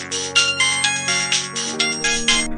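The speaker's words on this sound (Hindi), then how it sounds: "उधर अंजलि आकाश को फिर से फोन करती है" A phone ringtone plays alone in bright, repeating melodic bursts, about eight quick pulses in a steady rhythm, loud and close.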